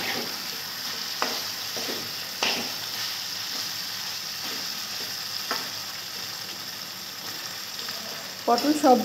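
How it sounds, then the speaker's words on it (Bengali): Pointed gourd sautéing in oil in a pan, a steady sizzle broken by periodic scraping stirs, with a busier clatter of stirring at the end. "পটলগুলো থেকে যতক্ষণ না তেল ছাড়ছে ততক্ষণ কষাতে থাকবো।"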